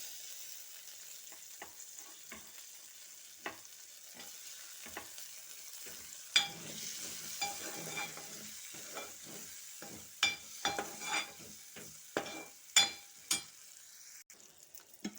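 Washed peas fry quietly in a pan for a curry with soya chunks and bottle gourd, a soft low sizzle broken by scattered clinks and scrapes of stirring, with no talking.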